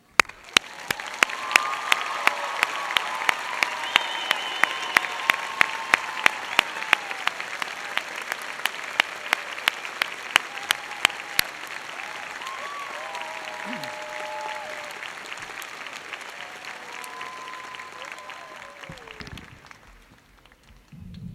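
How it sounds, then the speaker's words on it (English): An audience at a university doctoral hooding ceremony applauds the graduates with sustained, steady clapping and some sharp nearby claps, with faint cheers and voices mixed in before it trails off. "Please join me again in applauding these students."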